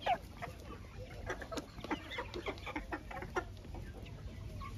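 Crested chicks, kept with laying hens, cheep and cluck in a scattered stream of short calls, fairly close and steady, with no talking over them.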